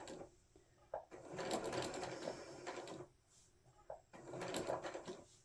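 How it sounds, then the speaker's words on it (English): A sewing machine stitches a Christmas stocking in two bursts of steady mechanical whirring, each a couple of seconds long, separated by a short pause, close and fairly quiet. "Just go slow around the corners. You can lift your presser foot up if needs be."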